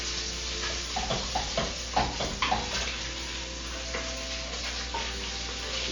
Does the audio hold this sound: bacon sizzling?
yes